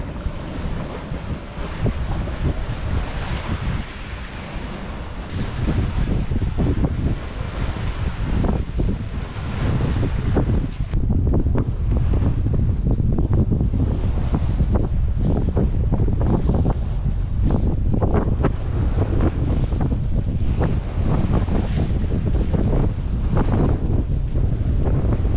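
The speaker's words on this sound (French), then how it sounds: "on accélère, mais on se prend cette houle dans le nez quoi" A sailboat heading into ocean swell, with heavy wind buffeting the microphone and waves rushing and slapping against the hull, loud and continuous throughout.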